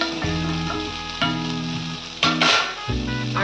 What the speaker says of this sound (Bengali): ঝিঙাটা একটু ভাজা ভাজা হয়ে গেছে, এবার দিয়ে দেব কাটা ছাড়ানো ভাজা মাছ।